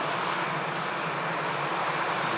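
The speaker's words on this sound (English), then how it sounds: "there's a Emirates A380" Emirates Airbus A380 airliner at Manchester Airport, a steady broadband engine roar held at moderate level throughout, without voices.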